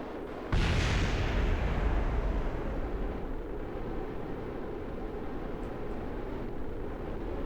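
An overheating ship blows up in a ship-building game, a loud blast with a sudden onset followed by a long, heavy rumble that stays strong to the end.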